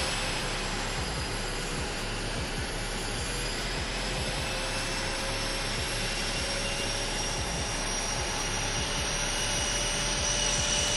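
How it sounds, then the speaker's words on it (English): A US presidential jet landing at Jeddah airport in Saudi Arabia, a constant loud jet roar with high whine, steady throughout with no talking. "That's Joe Biden landing at the Jeddah airport in Saudi Arabia."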